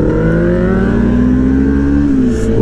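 Yamaha R6 motorcycle accelerating onto a highway, a loud, close engine whose rising harmonic whine climbs steadily through the revs without a break, with no talking.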